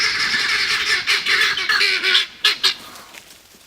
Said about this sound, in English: those are my guineas